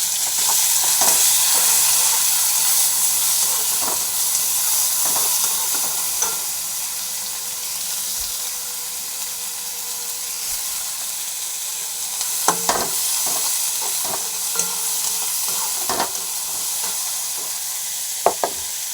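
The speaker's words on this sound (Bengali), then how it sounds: "রসুন কুচিটা দিয়ে কিছুটা ভাজা ভাজা হলে এতে এক মুঠো পেঁয়াজ কুচি দিয়ে দিলাম।" Chopped garlic and a handful of chopped onion frying in a pan, a steady bright sizzle with occasional spatula knocks and stirring scrapes, close and continuous with no talking.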